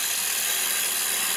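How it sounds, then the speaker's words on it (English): A light finishing cut on a wood lathe with a Hunter Tool Systems woodturning tool makes a steady, close, even hiss and rasp that holds without a break from start to end, with no voices. "And when I get down to a finished cut, I'll just make a very light cut,"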